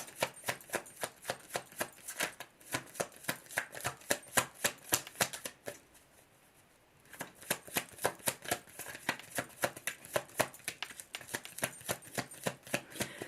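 Tarot cards being shuffled for a reading, a steady run of crisp, rapid riffling flicks close by, pausing briefly in the middle before resuming at the same brisk pace.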